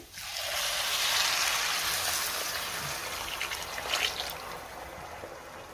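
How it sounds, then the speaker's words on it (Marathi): Hot water pours steadily into a pot of spiced rice, a continuous rushing splash, close by, holding fairly even for several seconds. "आता आपल्याला ह्यामध्ये पाणी घालायचंय"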